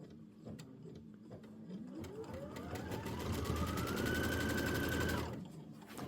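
Embroidery machine stitching a Kimberbell quilt block, a steady fast mechanical whirring and tapping that rises in pitch and speed, then stops abruptly, heard fairly faint and alone.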